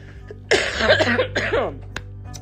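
A close, harsh cough in two rough bursts, followed by a faint throat sound.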